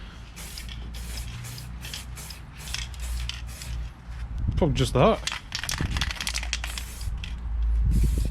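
Plastic primer sprayed from a can onto motorcycle parts outdoors in the wind, with short hissing bursts over breezy background noise, close up, and someone briefly speaking partway through.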